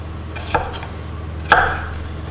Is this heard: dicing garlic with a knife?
yes